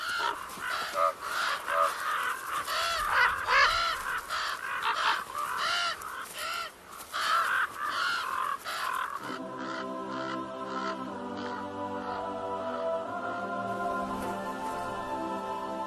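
A flock of crows caws harshly and continuously for several seconds, then the calls give way to sustained, steady tones.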